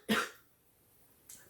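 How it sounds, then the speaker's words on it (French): A woman's dry cough, one short loud burst up close in a quiet room, followed by silence and a second fainter cough or breath at the end. "Et je tousse encore."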